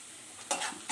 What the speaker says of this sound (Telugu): ఇప్పుడు పోపు వేగిపోయినట్టే